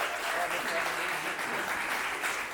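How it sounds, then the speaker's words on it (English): Wedding reception guests applauding for the mother at The Addison of Boca Raton, a steady wash of clapping throughout with some crowd voices mixed in. "Ladies and gentlemen, round of applause for Mom."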